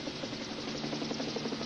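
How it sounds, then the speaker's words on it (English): A helicopter approaching over open country near a ranger station, its rotor chop a steady, fairly faint pulsing drone throughout the short stretch, with no talk. "And now I can hear the helicopter coming."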